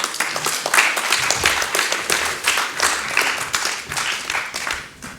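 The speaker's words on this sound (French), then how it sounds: "je vous demande de l'applaudir en amont" At a law colloquium, a conference audience claps loudly and continuously, a full, sustained wave of applause that holds evenly for about five seconds.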